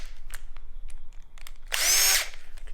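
A power driver whirs briefly for about half a second while removing screws from the controls of a KLX110 motorcycle, surrounded by light clicks and taps of handling parts.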